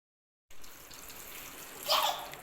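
Water runs from a tap into a kitchen sink where a small child sits playing, with a soft steady stream and a brief louder splash near the end.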